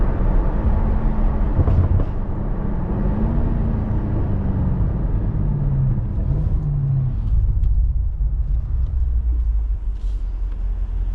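Steady engine rumble of a vehicle running in two-wheel drive, a continuous low drone with a slowly wavering pitch, loud and close throughout with no talking.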